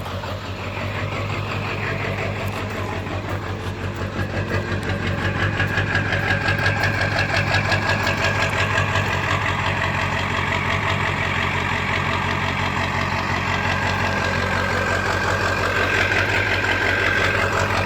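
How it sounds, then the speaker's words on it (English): Ford Excursion with a 7.3 diesel idling with a lope, a steady, close, rumbling engine note with a rhythmic uneven pulse running unbroken throughout. "But yeah, there's my lope."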